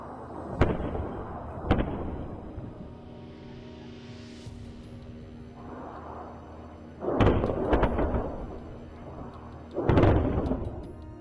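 Blasts at a fuel depot in Belgorod, Russia: two sharp, booming reports early on, then two heavier, rumbling bursts later, each standing out against a steady low background hum, with no voices.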